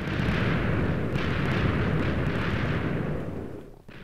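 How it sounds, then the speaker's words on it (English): TNT cross bombs in Minecraft detonate in a dense, continuous rumble of overlapping blasts that stays loud and roiling for about three seconds before tapering off near the end. "these ones set off the four mothership cross bombs"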